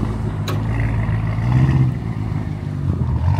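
A 2016 Audi S6 with a 4.0 liter V8, automatic transmission and aftermarket exhaust idles with a steady, close, rumbling drone and a short sharp blip near the start, with no talking.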